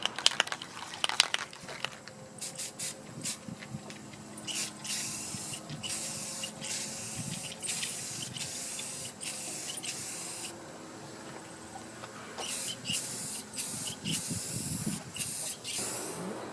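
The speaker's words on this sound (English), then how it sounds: "let's spray another coat on here" Rust-Oleum glossy black spray paint goes onto a house door in a series of close, sharp hissing bursts. Short spurts come first, then long sustained sprays, separated by brief pauses.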